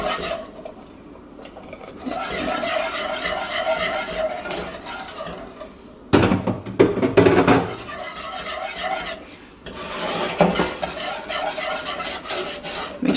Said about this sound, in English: I'm gonna whisk it well. Whisk it until everything is fully incorporated.